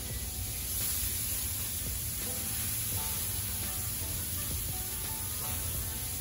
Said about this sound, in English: right behind our butter, we're gonna go ahead and add in some onion